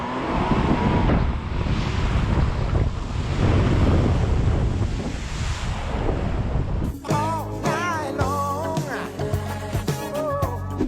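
VW Amarok Aventura pickup truck, rated for 500mm wading depth, pushing through water with a heavy rushing, splashing roar for about seven seconds before music takes over.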